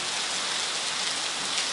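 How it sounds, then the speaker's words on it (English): Steady rain falls on surfaces outdoors, a dense, even hiss of many drops with no pause, no voices and no thunder. "It's raining, isn't it?"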